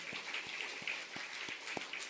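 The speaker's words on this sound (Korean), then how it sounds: "그 가정 위해서 박수 한번 하시죠." Church congregation clapping together for a family, heard as a slow, fairly faint series of about seven separate hand claps in a steady rhythm over a hushed room.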